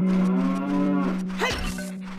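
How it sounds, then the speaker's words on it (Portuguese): A cow in The Legend of Zelda: Ocarina of Time lets out a single loud, close moo, starting as a steady low tone and ending in a short downward bend. "Mano, mas tem uma vaca aqui."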